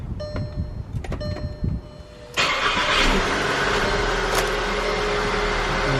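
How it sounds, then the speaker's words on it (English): A 2009-2016 Volkswagen Tiguan with a faulty automatic transmission gear selector starts up: electronic chimes and clicks first, then the engine cranks and catches, settling into a steady, close idle hum. "And so now our vehicle starts."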